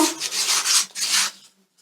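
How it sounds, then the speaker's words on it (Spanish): Close, rhythmic rasping of sandpaper rubbed along the edges of a wooden piece in several back-and-forth strokes before stopping. "Entonces lijamos todo el contorno"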